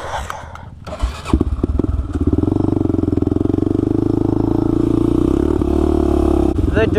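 An 80cc manual dirt bike engine from the 1980s runs as a pit bike, loud and close, settling into a steady buzzing idle after some clattering start-up sounds.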